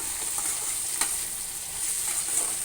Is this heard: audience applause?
no